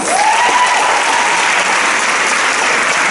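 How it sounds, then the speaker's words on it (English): Loud, sustained applause fills a theater during a graduation ceremony, many hands clapping in a thick continuous roar with a brief faint tone near the start. "Can we get a round of applause?"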